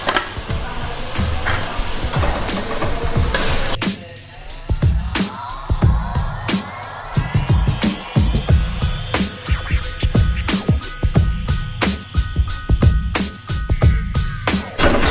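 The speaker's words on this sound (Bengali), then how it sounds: "জল দিয়ে একটু ভালো করে মশলাটা কষিয়ে নেবো" Spice paste with a little water sautés in a pan for a potato, brinjal and fish curry, a hiss under rapid, scraping ladle strokes and clatter that repeat throughout.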